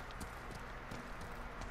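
Horse hooves clip-clopping in Ghost of Tsushima, a quiet, quick rhythmic trot heard alone over low game ambience.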